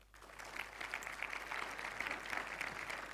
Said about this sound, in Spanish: un fuerte aplauso para Rafael